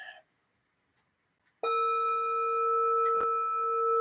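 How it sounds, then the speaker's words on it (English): A soft meditation bell is struck once after a quiet pause and rings on with a clear, sustained, steady tone that slowly fades, heard alone and up close. "All right, a little soft bell here."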